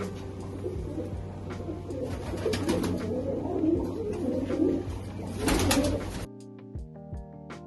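Pigeons coo steadily amid a busy, rustling flock; the cooing fills most of the clip, then drops to a quieter stretch near the end.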